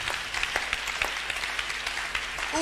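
A church congregation applauding during a Sunday service, a steady wash of clapping from many hands throughout, moderately distant and continuous, with no voices standing out.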